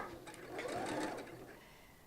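A sewing machine stitches fabric for a table runner, a quiet steady mechanical hum with light rhythmic ticking over about two seconds, heard faintly and close.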